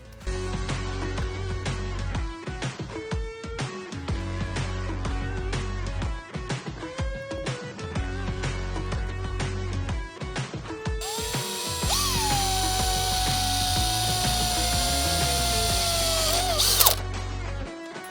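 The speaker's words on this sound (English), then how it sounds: "mark them out and drill your holes" A power drill bores holes for caravan awning clothesline brackets, starting with rapid stop-start ratcheting bursts and then a long continuous whine that winds down at the end, loud and close.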